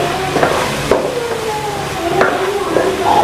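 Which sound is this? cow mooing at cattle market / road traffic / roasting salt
roasting salt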